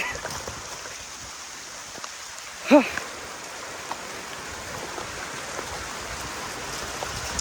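Rain falling outdoors as a steady soft hiss of drops on surfaces, with a brief sharp tonal squeak in the middle and no talk over it.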